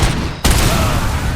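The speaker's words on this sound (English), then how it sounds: "Blew him up with their own grenade." A grenade explodes in the video game Robocop Rogue City as a sudden, loud, close blast that leaves a dense rumbling roar trailing behind it.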